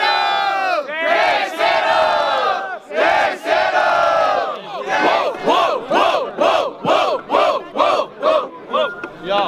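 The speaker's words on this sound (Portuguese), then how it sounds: "quem gostou da rima da Cabana e do Modesto faz barulho" A crowd at a student rap battle shouts and cheers loudly in unison, first in long roaring swells, then in a fast rhythmic chant of repeated short shouts.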